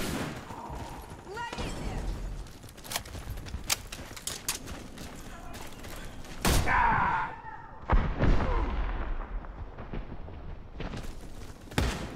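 Grenade explosion in the shooter Warface, a loud broadband blast around the middle amid ongoing gunfire bursts and game noise, with a second heavy thump following; voices talk over parts of it.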